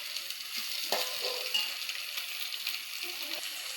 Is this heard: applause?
no